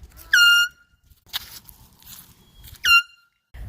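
Two short, loud blasts of an air horn, each with a sharp tonal blare about two and a half seconds apart, separated by quieter thumps and rustling.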